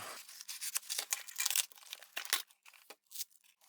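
Stickers being cut free from their packaging: close, crackly crinkling and tearing of plastic and paper with short snipping bursts and brief pauses, no speech.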